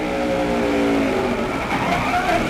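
Onboard NASCAR race car number 9 at the 1999 Pennsylvania 500, its engine roaring loud and sustained down the long straightaway toward turn 1, with a steady high-revving drone.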